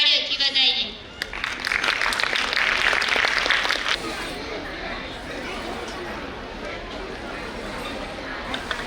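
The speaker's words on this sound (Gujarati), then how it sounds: "આપણે તેમને તાળીઓથી વધાવીએ." Audience clapping at a school farewell event welcomes Grade 8 students coming on to perform a drama, steady applause mixed with crowd chatter and a brief voice at the start.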